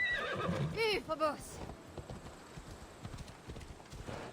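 A horse in a video game neighs loudly near the start, followed by rhythmic hooves clip-clopping close by, while someone speaks French over it.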